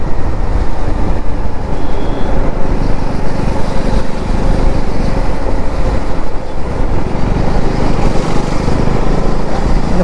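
Continuous road noise and engine rumble while riding a KTM Duke 390 motorcycle in traffic just past a toll gate near Chengalpattu on an evening ride, a steady loud wash with no talk.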